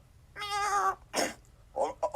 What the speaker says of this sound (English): I think this is what we call in the kitty world a hiccup.